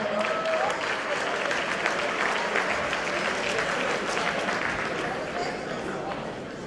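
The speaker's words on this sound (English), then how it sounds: "Can we give another round of applause for that amazing panel?" A large audience of about 400 educators at the 2017 BMEC conference applauds a panel. Dense, steady clapping fills the room throughout, easing slightly toward the end, with some voices mixed in.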